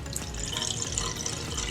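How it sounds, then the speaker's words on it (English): Water pouring out of a Pyrex glass into a sink, a steady continuous splashing trickle that stays fairly even and close throughout. "Now that the water has been completely poured out and I've cleaned the Pyrex glass"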